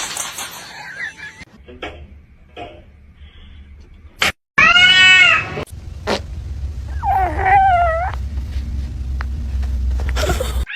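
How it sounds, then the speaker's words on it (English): A pet cat named Mimi meows loudly up close with a long, wavering cry, then gives a softer drawn-out mewl a few seconds later. Clicks and background noise sit around the calls. "This is my cat, Mimi."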